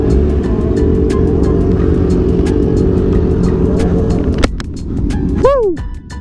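A 600cc supersport motorcycle, such as a 2022 ZX6R, 2020 Yamaha R6 or 2019 CBR600RR, drones loudly and steadily at close range, then a quick throttle blip swoops the revs sharply up and back down near the end.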